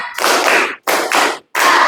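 Classroom of pupils doing a rhythmic cheer-clap in unison, three loud bursts of clapping separated by short pauses, close and clear with no talk.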